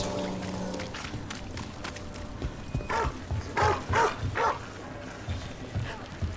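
A dog in the video game Dragon Age: The Veilguard barks several times in a short, loud mid-clip burst over a busy ambient game soundscape.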